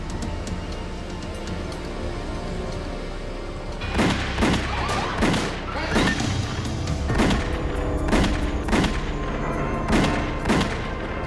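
A rapid series of loud gunshots cracking over a steady background rumble, roughly a dozen sharp reports in quick succession.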